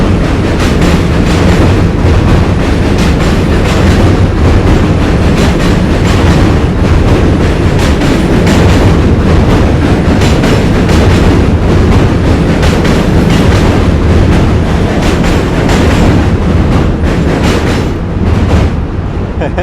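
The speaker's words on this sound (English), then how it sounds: "It's like the trains are like every 2 or 3 minutes. Super noisy" A loud New York City train rumbles past close by, a continuous heavy roar with rhythmic clickety-clack of wheels on rails filling the whole stretch, with no voices over it.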